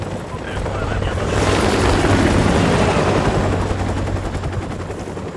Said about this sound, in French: Hélicoptère ennemi.